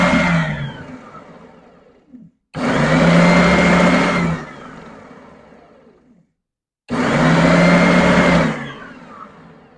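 An oscillating belt sander in a tool lab is switched on and off in short bursts, giving two loud, steady whirring runs separated by silent gaps, each ending in a fading wind-down.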